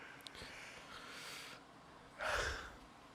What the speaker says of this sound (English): I got a yawn.